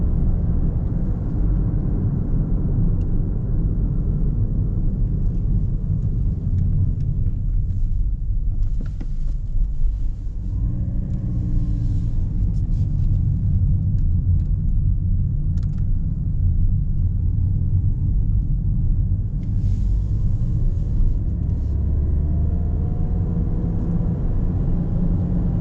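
A 2019 Toyota Yaris 1.5G car drives and accelerates, its engine a steady, loud low rumble with road noise from inside the cabin that continues without a break.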